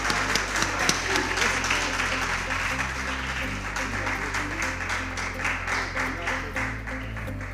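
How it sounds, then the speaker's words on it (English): Audience applause for school quiz contestants at the end of a round between junior high schools, steady clapping throughout with a low droning tone underneath. "Shall we give our contestants a round of applause?"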